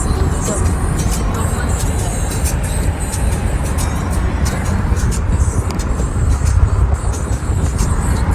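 A car drives at night in heavy rain. A loud, continuous road rumble and rain hiss fill the whole stretch, and voices are faintly audible underneath.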